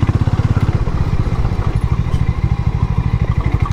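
A Harley-Davidson X440 motorcycle on a ride in Goa, its single-cylinder engine thumping in a loud, fast pulsing beat with rattly mechanical clatter, recorded close with no talking.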